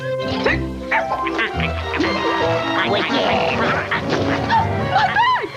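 A dog barks a few times amid lively voices and other bustling sounds, the barks mixed in with talking.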